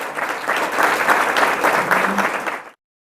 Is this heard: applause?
yes